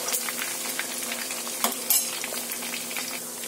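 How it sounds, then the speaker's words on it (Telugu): Chicken lollipops frying in hot oil, giving a dense, steady sizzle and bubbling with a couple of brief utensil clinks partway through. "ఇంకా కొంచెం ఉన్నాయి కదా అవి కూడా ఫ్రై చేసేసుకుందాము"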